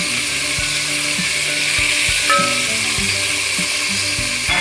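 Spices for aloo matar pulao, including chopped ginger, red chilli powder, black cardamom and cloves, frying in a pan, with a steady loud sizzle and intermittent clicking, mechanical ticks throughout.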